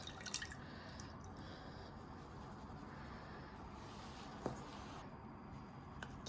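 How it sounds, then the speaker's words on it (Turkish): Lemon juice poured into a small pot with grated lemon peel for a lemon cheesecake, a faint, steady liquid trickle with a few soft drips. "Şimdi limon suyumuzu ekliyoruz."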